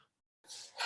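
A single close sneeze bursts out after a brief silence, a quick intake followed by a loud, breathy explosive release from someone nearby while a storyteller speaks live.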